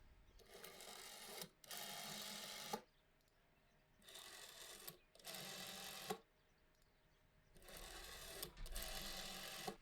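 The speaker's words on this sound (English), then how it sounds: "Rotary phone sim." Rotary phone dialing in the video game Martha Is Dead, three long bursts of rapid whirring clicks, each lasting over a second and separated by short quiet gaps, close and clear.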